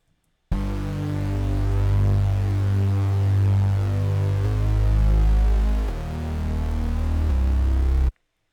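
A heavy bass line runs with a looped beat and lead, deep sustained low notes changing pitch every few beats, loud and continuous with no talking.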